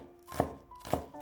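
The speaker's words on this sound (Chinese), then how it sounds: "再切一些葱白" Two crisp knife chops on a cutting board, about half a second apart, as scallion whites are sliced. The cuts are close and clear over a quiet background.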